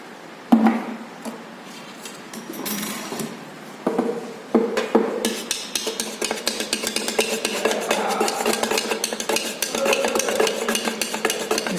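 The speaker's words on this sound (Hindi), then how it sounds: "Stir it for some time." A liquid mixture stirred in a container during a lab operation, giving irregular clinking and scraping strokes that turn steady and busier after a few seconds, close and fairly loud with no talk.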